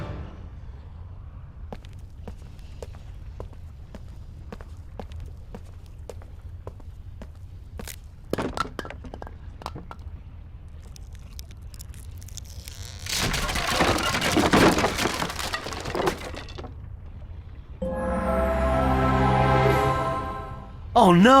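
Object collapsing in the Wii game The Crown of Midas: scattered small creaks and taps, then a loud rumbling crash of falling debris, followed by a crumbling, rattling tumble and a final hit.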